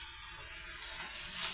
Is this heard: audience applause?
no